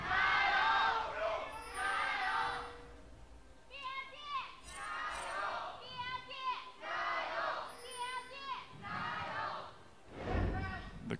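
An esports arena crowd at a 2018 LPL Spring Split League of Legends match roars and shouts for Rogue Warriors in loud surging waves with several whoops and yells rising and falling over about eleven seconds.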